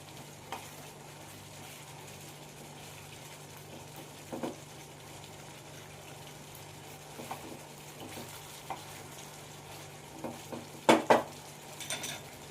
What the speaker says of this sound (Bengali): আবারও ভালো করে আমি নাড়াচাড়া করে নেব 2 মিনিট ধরে